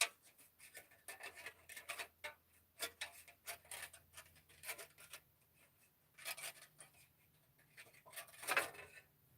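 A Gundam mask part being folded and creased by fingernail, one notch at a time, giving quiet irregular scratchy ticks and rubbing taps through a soft, low-level stretch with a sharper cluster near the end.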